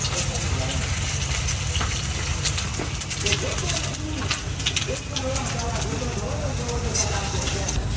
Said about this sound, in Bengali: পাঁচফোড়নটা ভাজা হয়ে গেছে